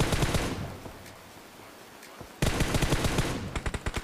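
Gunfire in the mobile game PUBG Mobile at a military base, with rapid automatic bursts of closely spaced shots, then a pause, then another long burst ending in separate single shots, loud and near.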